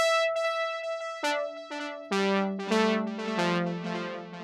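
A brassy, trumpet-like secondary lead from Arturia's Juno 6V built on a sawtooth wave with fast attack and medium release, playing a short melodic line of sustained notes with delay trailing each phrase, alone and clear.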